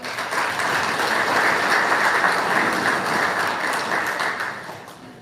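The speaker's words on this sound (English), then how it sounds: "So one more round of applause for the JV." An audience gives the JV team a steady round of applause, a dense wash of many hands clapping at once that swells slightly and then tapers toward the end, with no voices rising above it.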